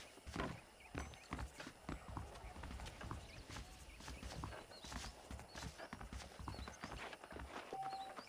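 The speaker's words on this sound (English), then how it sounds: "The horses are saddled up over here." Horse hooves clip-clopping in the video game Red Dead Redemption, a steady walking rhythm of hoof strikes at moderate distance against a faint outdoor background, with a brief horse whinny and speech mixed in.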